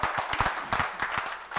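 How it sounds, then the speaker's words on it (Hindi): Brief burst of audience clapping at a business seminar honouring a guest, uneven and moderately loud, with sharp individual claps standing out over a roomy background. "इनके लिए एक जोरदार तालियां"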